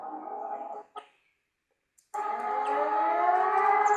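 A siren sound effect wails in a steady, wavering tone, cuts off into near silence for about a second with a brief blip, then resumes loudly and continues.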